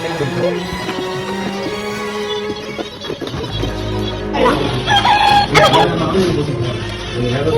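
A toy chicken crows loudly and clucks over a busy party background of voices, with an electronic rooster-like call repeating close by at a child's birthday celebration.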